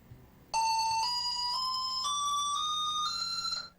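A driver fatigue monitor alarm starts abruptly and holds a loud, steady beeping tone that steps upward in pitch several times before cutting off.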